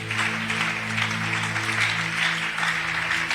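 A church congregation applauds continuously for a few seconds, a steady wash of clapping at even loudness, with sustained low organ or keyboard notes humming beneath it.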